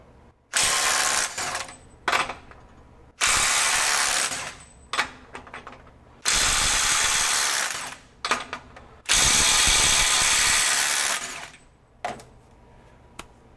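A RYOBI 18V One+ HP compact impact wrench hammers a socket in four long, loud bursts separated by brief pauses and a few short trigger blips, heard up close with no speech.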